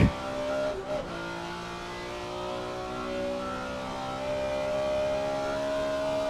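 A classic race car in the Assetto Corsa racing sim holds a steady engine drone with layered harmonic tones, a brief blip near the start, then a sustained, gradually building note at moderate level.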